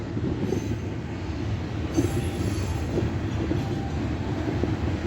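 A long freight train rolls past a big railroad crossing, a steady, fairly faint rumble of railcars with occasional wheel squeals and clanks, heard from a distance with no voices.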